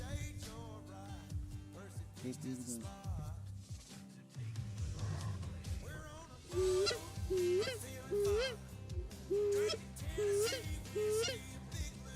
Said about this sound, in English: There's just thousands of birds, man